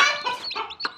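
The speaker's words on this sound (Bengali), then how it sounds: "পাশে একটা মুরগি চ্যাটাটা করতেছে" A hen cackles beside young chicks being raised, giving a quick string of loud, harmonic squawks and clucks in uneven bursts across about a second, close by with no talk.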